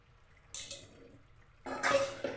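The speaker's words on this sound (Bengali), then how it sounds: "পরিমাণ মতো জল দিচ্ছি" Water is poured into a pot of cooking potatoes and bottle gourd shoots, two short splashing pours close by, the second longer and louder.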